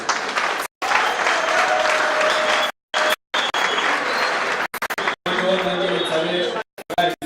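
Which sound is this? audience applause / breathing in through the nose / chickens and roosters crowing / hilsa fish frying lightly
audience applause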